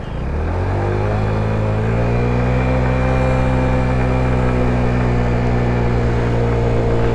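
A GY6 50cc scooter engine on the move, a loud steady drone with a low rising hum that settles into an even note, alone without talk.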